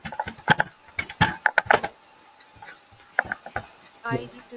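Computer keyboard typing while entering code in a Salesforce tutorial, heard as clustered bursts of key clicks with pauses between them, fairly close and clear, ending in a denser run of taps.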